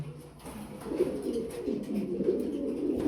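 Low, soft cooing of pigeons at a pigeon farm, several overlapping coos in a steady rolling rhythm, fairly close by with a faint background hum.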